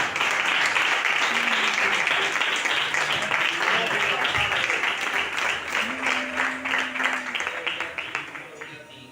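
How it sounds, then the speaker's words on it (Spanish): Church congregation applauding together, a dense, steady wash of clapping that holds for several seconds and gradually thins toward the end. "Le damos un aplauso al Señor."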